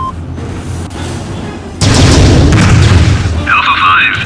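Torpedo explosion in the space combat game Starlancer: a loud, sudden boom bursts in partway through and rolls on as a heavy rumble, with radio chatter and electronic cockpit tones around it.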